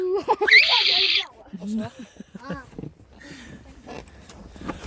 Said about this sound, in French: C'est un truc avec des cris d'enfants.